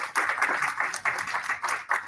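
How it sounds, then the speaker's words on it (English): An audience applauds at a town hall meeting about a pending Safeway closure. Claps come steadily and fairly softly with pulsing swells, a short burst with no voices. "So give yourself a round of applause for coming and making that effort."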